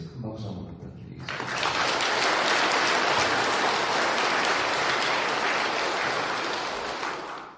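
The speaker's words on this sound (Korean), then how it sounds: "큰 박수 한번 부탁드리겠습니다" Sustained applause from a large crowd at a monthly Buddhist temple service, starting after a brief moment of speech and holding steady and loud for several seconds before tapering slightly.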